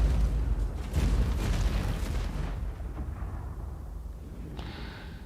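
Explosions rumble continuously in a space video game, a dense, loud, low booming wash with bursts layered over it that thins toward the end as a brighter noise cuts in.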